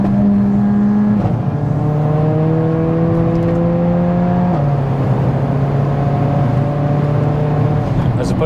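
A widebody Mercedes-AMG A45 with a 465 bhp engine accelerates hard, its loud engine note climbing steadily through the gears with a brief dip at each shift, constant and close throughout.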